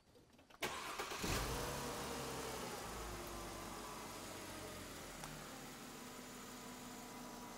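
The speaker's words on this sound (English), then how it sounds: "Let's start and idle the vehicle." A car or truck engine cranks and catches after a brief moment of quiet, then settles into a steady, close idle that hums on unchanged to the end.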